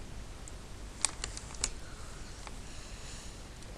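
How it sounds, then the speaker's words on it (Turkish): Faint, sparse clicks of keys being pressed on a computer keyboard in a quiet room, with a few sharper single taps standing out, like the enter key. "Daha sonra enter tuşuna basın."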